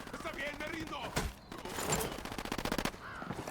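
Rapid bursts of gunfire ring out in the video game Ghost Recon Wildlands, rattling volleys mixed with shouting voices and game noise at moderate loudness.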